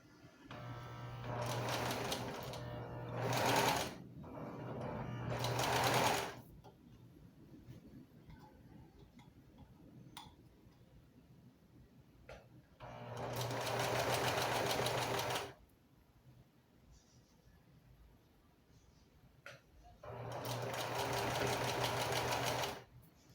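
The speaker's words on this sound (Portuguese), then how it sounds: "Tô passando aqui na lateral, já consegui passar na costura da lateral." Sewing machine stitching the side seam of a t-shirt in bursts of a few seconds each, a fast rhythmic whirring hum broken by quiet pauses, fairly soft and close, no talk.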